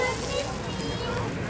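Water gushing from a fire hose during a fire brigade show drill with a 1955 LF 15 fire engine, a steady hissing rush that fills the whole short moment.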